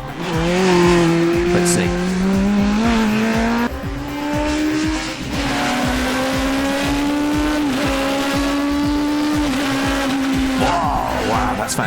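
A souped-up Mini race car screams through a fast lap, its high engine note climbing and falling with gear changes and bursts of acceleration, loud and close throughout, with a brief spoken remark near the start.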